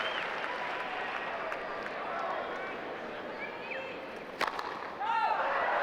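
The crowd at a 2003 US Open tennis semifinal applauds, faint at first, then bursts into louder clapping near the end while a commentator talks.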